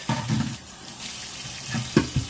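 Water runs steadily from a tap while a dog is rinsed in a bathtub, a continuous close splashing rush with a few sharper splashes near the end.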